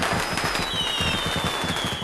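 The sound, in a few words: huge firecracker exploding in a bar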